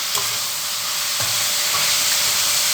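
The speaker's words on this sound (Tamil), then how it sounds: "இந்த மட்டனை வந்து இதோட நம்ம சேர்த்துக்குவோம் நல்லா வதக்கி கொடுக்கலாம்" Mutton sizzles loudly in a pan, a dense continuous frying hiss close up with a couple of brief spoon scrapes as the meat is stirred.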